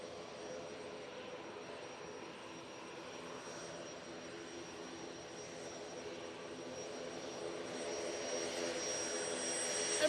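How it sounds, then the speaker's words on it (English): An Emirates Airbus A380 jet airliner comes in to land, a steady broadband roar of its engines that swells gradually louder toward the end, heard from a distance outdoors at Manchester Airport. "Emirates A380 now coming on."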